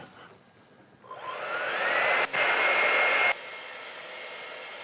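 A hair dryer blowing on an acrylic painting switches on after a quiet moment and builds to a loud, steady whooshing roar, cuts out for an instant, then drops to a lower setting and keeps running.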